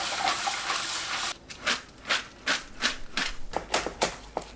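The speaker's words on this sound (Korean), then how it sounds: "파를 작게 썰어주세요." A knife finely chopping green onions on a cutting board in a home kitchen, heard as a quick run of about ten sharp, evenly spaced taps, close and clear after a short burst of running water.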